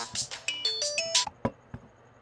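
A melodic phone ringtone sounds for an incoming call in a dubbed Telugu love-story film scene, a quick run of bright synthetic tones stepping up and down, then a few sharp clicks near the end.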